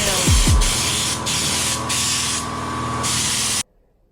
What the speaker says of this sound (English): The Jeep is sprayed in Raptor liner.